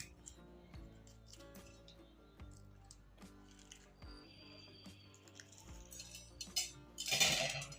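Knife slitting open green chillies on a board to make stuffed bhajiya, a series of soft cutting taps and squishy slices, close and quiet, ending with a brighter scrape.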